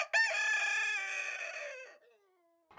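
A rooster on a rural Canadian farm crows once, loud and close, a long harmonic call lasting about two seconds before it fades, followed by a short sharp sound at the end.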